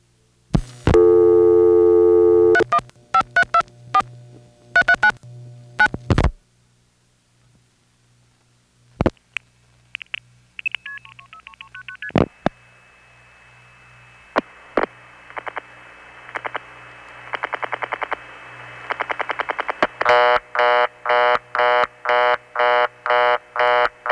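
Long-distance call tones pass through an independent telephone company's exchange, probably step-by-step or Stromberg XY switching equipment, placed from New York City to the 315 area of upstate New York: clicks, a steady tone, then repeated loud beeping pulses with no voices.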